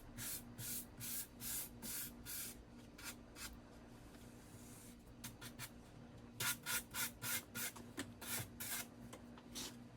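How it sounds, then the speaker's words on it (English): Hand sander smoothing the sharp cut edges of an Ikea Billy bookcase shelf, heard as repeated short rasping strokes in bursts with a pause midway, fairly quiet over a steady low hum. "So now I just take a sander to just break down those edges to make sure they're not as sharp."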